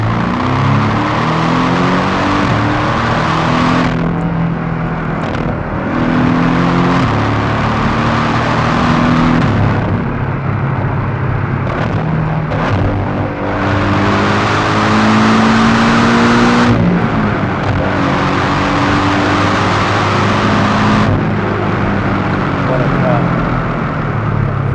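A 2018 Porsche 718 Cayman GTS engine and exhaust pull loudly while driving, rising through the revs with several gear changes and a steady roar between them.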